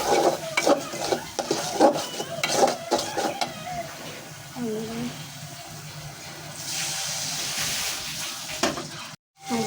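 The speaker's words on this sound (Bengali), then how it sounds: "দেখেন মশলাটা কষে গেছে তেল উপরে উঠে আসছে" Masala spices frying in oil in a pan are stirred with a scraping utensil, giving repeated scrapes and clinks over a steady low sizzle, heard close up without talk.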